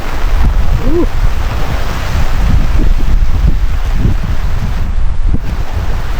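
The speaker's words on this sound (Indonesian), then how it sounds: "hujan, angin sangat kencang," Strong storm wind with rain roars steadily and loudly against the microphone on a mountain camping trek, with gusty rumbling and whooshing throughout and no clear voices.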